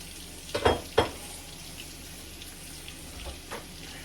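Onions dropping into a hot pan, a couple of sharp splashy hits followed by a steady low sizzle, close and moderately quiet, with no talking.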